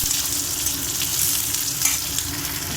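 Onions, green chilies and curry leaves fry in hot oil for brinjal curry, a close, steady sizzle and crackle with faint stirring scrapes and no talking.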